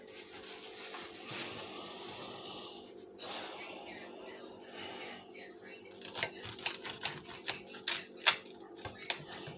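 Fried ground-lentil dumplings, Puerto Rican alcapurria style, being cut open: a run of sharp, crisp crunches and knife clicks near the end, preceded by soft handling noises and breathy sounds close up.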